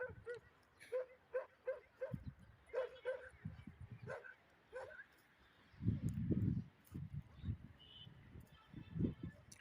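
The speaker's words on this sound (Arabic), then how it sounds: "الكلاب الضالة" Stray dogs at an ancient Egyptian archaeological site of mudbrick walls bark repeatedly, a series of sharp yips and barks at moderate distance, with quieter whimpers and breathy sounds between.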